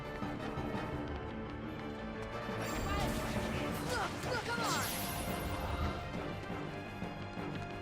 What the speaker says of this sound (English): The sound design in this game is so good. Like the shattering of the light and stuff